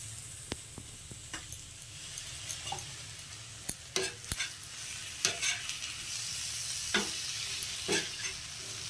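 Steady hiss of an egg frying on a tawa with scattered scraping and tapping of a spatula against the pan, quiet and fairly close, no voices.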